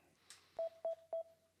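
Three evenly spaced electronic beeps from a phone's volume button as it is pressed, short identical tones heard close and alone after a faint click.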